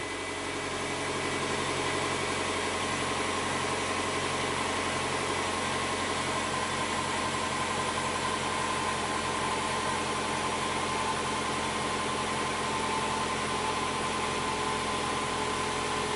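A Subaru engine with a P0171 lean fault idles while warming up. A close, steady, droning hum with a low pulsing rumble continues evenly with no other sounds.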